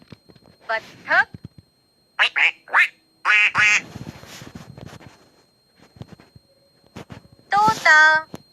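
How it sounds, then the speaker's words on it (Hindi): Duck quacking in a short series of nasal calls, several bursts spread across the clip with quiet gaps between, close and fairly loud, heard alone without talk. "बत्तख"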